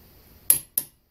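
A torque wrench clicks twice in quick succession while tightening wheel lug nuts on a lifted car: two sharp, close metallic snaps about a quarter second apart, followed by silence.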